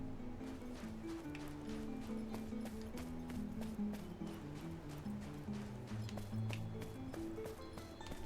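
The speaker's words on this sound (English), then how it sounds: "Horse." Horse hooves clip-clop in a steady walking rhythm in Cowboy Life Simulator, distinct close taps over a droning low tonal background, with no talk over them.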